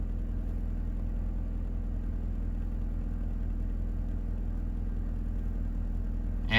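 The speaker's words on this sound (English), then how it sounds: "We'll leave the vehicle running." A car engine idles steadily while the vehicle is left running, a low constant rumble with an even hum and no talking, ending with a brief louder bump.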